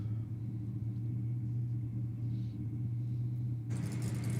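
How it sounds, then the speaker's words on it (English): A BMW M3 drag car creeps toward the start line at Sydney Dragway on a competition night, giving off a low, steady engine rumble heard from a distance before a burst of brighter noise near the end. "this BMW M3 just quietly makes its way up towards the line"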